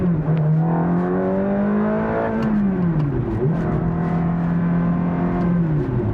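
A Ferrari F430 with a manual gearbox and tuned engine software revs in a close, loud, continuous drone that climbs, dips sharply and climbs again before settling, with no talk over it.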